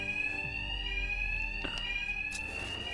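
Bank alarm in the Batman Arkham Knight video game, a steady high-pitched electronic ringing tone held continuously, with faint game effects and low rumble underneath.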